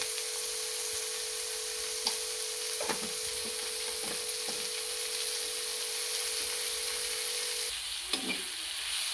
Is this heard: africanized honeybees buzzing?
no